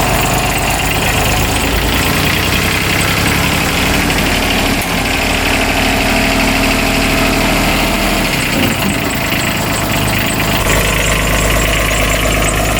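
A Kubota diesel UTV bought cheaply at auction idles close by, a loud, steady diesel clatter with a constant low rumble and slight knocking that barely changes throughout.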